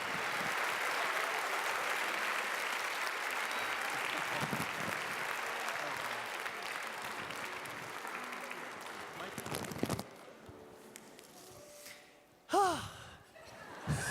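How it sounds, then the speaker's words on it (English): Audience at a grade 4 and 5 school music performance applauding, a broad round of clapping that fades out, followed by a few scattered sounds and a gasp-like vocal near the end. "Let's give him another round of applause."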